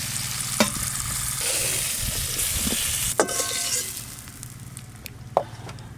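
Spiced pumpkin fries in a pan with a steady sizzle while a utensil stirs it, giving a few sharp scrapes and clinks against the metal. Close and continuous, with no talking.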